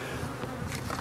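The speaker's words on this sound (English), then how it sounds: "As you can see how these bees here calm down." Honeybees at a relocated hive buzz in a dense, continuous drone, close and steady for about a second, with no talking.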